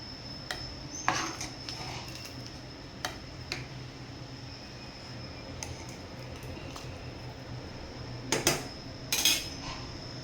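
Prawn rice with fresh coriander being stirred in a pot, a spoon scraping and clinking against the metal in scattered taps over a quiet background.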